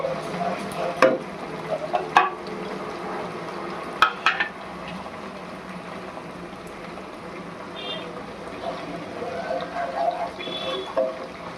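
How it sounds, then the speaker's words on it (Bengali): Spices being stirred and sautéed in a pan for a white chicken dish, with a soft steady sizzle and a few sharp clinks of a spoon against the pan, plus faint background noise. "এটা দিয়ে একটু আবার ভালো করে একটু মিশিয়ে নিচ্ছি।"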